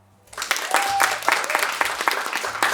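Audience applause breaks out at a Ukrainian stand-up comedy show, starting abruptly after a brief quiet moment and holding steady as a dense, close wash of clapping with a faint tone running through it.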